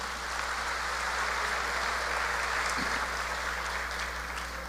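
A church congregation gives a steady wash of applause, a continuous even clapping roar with a low hum beneath it throughout.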